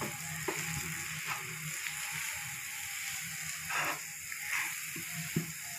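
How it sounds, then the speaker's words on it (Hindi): Spices, including amchur and salt, are stirred and frying in a pan over a low flame for nargisi kofta, giving a continuous soft sizzle with several short scraping stirs and no talk. "धीरे धीरे आप इस तरीके से मिक्स कर लीजिए"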